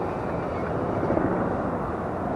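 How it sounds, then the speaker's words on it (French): A helicopter flies far off over Brooklyn, New York, a steady, dull rotor rumble that holds evenly without any talk. "De loin, il y a un hélicoptère."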